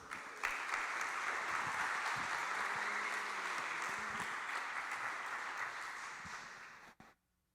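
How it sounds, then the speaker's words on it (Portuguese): A church congregation applauds, dense steady clapping from many hands filling the room for about seven seconds before stopping abruptly. "Vamos aplaudir ao Senhor mais uma vez."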